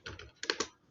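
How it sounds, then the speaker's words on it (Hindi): Several quick, soft keystrokes on a computer keyboard while typing a pip install command, a light clatter of clustered taps that is faint and close with no voices. "यहाँ पे आपको सिंपली टाइप करना है पिप इंस्टॉल"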